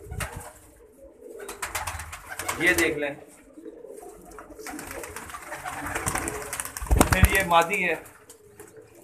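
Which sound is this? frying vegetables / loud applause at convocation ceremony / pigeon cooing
pigeon cooing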